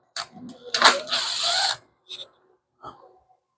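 A power drill backing screws out of an LG washing machine during a drain pump replacement: a loud, close whir lasting about a second, then two short bursts, with a voice briefly heard.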